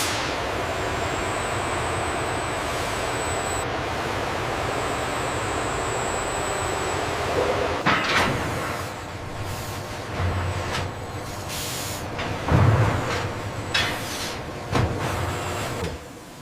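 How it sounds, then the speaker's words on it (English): A decoiler spindle in a steel-processing line expands to lock a massive steel coil in place. A steady industrial machine hum runs throughout, punctuated by a few heavy mechanical clunks and thumps toward the end. "The decoiler spindle rapidly expands, locking the massive steel coil into place with absolute precision."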